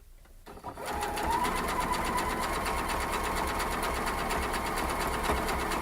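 A sewing machine stitches a zigzag seam to mend a large hole, starting up and then running fast and steady with a dense, even mechanical chatter that continues alone at close range.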